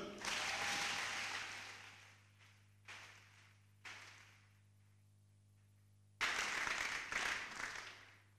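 A church congregation breaks into applause in bursts, loud at first, then two short faint spatters, a lull and another strong round of clapping.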